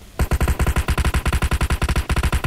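A burst of rapid automatic gunfire from PUBG Mobile rattles out in a quick, evenly spaced rhythm of loud close shots lasting a couple of seconds.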